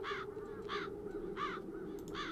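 Crows in the video game Chains of Satinav caw four times in a steady rhythm, harsh and moderately near, over a low constant hum with no talking.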